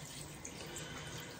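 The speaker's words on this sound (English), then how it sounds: "I'm gonna wash my hand" Water runs from a tap for hand washing, a quiet, steady hiss and splash with no voices over it.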